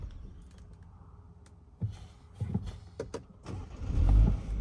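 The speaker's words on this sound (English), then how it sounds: "I'm gonna go ahead and do a startup for you guys here." A 2021 BMW X1 engine cranks and catches, rising into a low rumbling idle after a few clicks and thumps, heard from close by.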